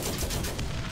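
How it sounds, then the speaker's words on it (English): Loud, dense gunfire from raiders in the Borderlands video game, a continuous barrage of overlapping shots and booms filling the moment. "Stop shooting, I surrender."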